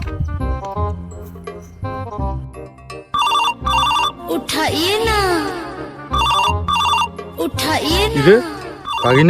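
A mobile phone rings loudly with a repeating electronic melodic ringtone in bursts, the tune pausing and restarting through the span.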